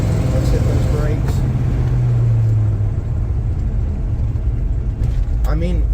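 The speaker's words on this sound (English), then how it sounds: "Let's hit those brakes." A Chevelle braking hard from about 50 mph, with a loud steady road and engine rumble whose low drone drops away as the car slows, ending in a brief squeal.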